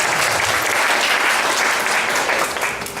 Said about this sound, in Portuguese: Dê uma voz de saúde e palmas ao Senhor Jesus.